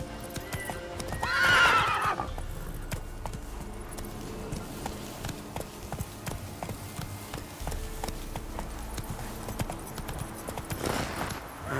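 Hoofbeats of a horse galloping in The Witcher 3: Wild Hunt, a steady clip-clop rhythm throughout with a loud whinny near the start and game ambience underneath.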